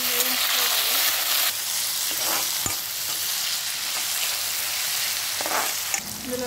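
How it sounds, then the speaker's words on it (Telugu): Chopped onions sizzle and fry in a pan for a curry, a steady bright hiss with occasional stirring scrapes of a spoon, close and continuous. "అలాగే ముందుగా కట్ చేసి పెట్టుకున్న ఆనియన్స్, ఇది కొంచెం వేయించుకోవాలి"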